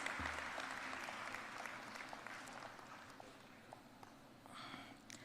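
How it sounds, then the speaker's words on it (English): An audience at a university orientation and scholarship ceremony applauds students, a very faint, distant patter of many hands clapping that slowly fades over a few seconds. "Let's hear a huge round of applause for all these students."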